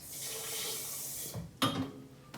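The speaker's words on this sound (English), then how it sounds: "let's add some water into" Tap water runs steadily into a saucepan of tinga sauce for a couple of seconds in a home kitchen, then cuts off with a brief clatter.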